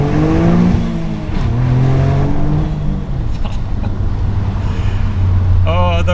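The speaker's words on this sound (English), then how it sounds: "Another little exhaust test here" Toyota GR Yaris with its small three-cylinder engine revving hard, several rising and falling rev sweeps from a loud, close exhaust, with a quick crackle near the end.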